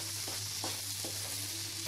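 Boiled macaroni tossed in a hot pan for veg macaroni masala gives a steady sizzle, with a few soft scraping stirs spaced through the short stretch and no talk.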